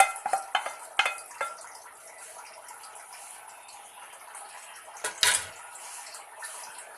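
Fried egg chutney ingredients tipped into a bowl: quick clattering scrapes and utensil knocks at the start, a soft wet hiss, then one more sharp clatter near the end.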